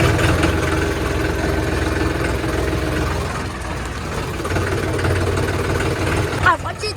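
A tractor engine runs with a steady low rumble, idling close by for several seconds, with a voice talking over it and a brief rattle near the end.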